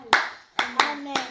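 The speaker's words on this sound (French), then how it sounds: "Applaudissons pour le Seigneur" Congregation at a French-language church service claps hands in praise to the Lord, four sharp, close claps in an uneven rhythm.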